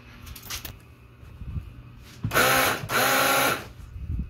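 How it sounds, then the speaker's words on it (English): Car air horn with its two compressors blown, giving a buzzy electric motor whine instead of a blast; two loud bursts of roughly a second each, close by, with quieter mechanical noise before them. "I just get a buzzy motor noise of the compressors trying to spin"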